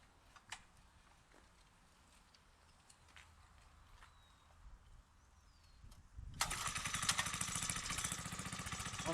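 A Briggs & Stratton small engine fitted with a new carburetor intake manifold starts about six seconds in and runs loud and steady, near and alone. Faint mechanical clicks come before it.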